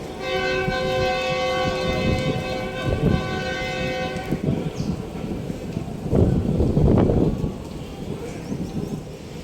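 A train shunting at a railway station on the second day of Eid, with a long sustained horn-like tone followed by rumbling wagon movement and clanks, loud and close amid station bustle.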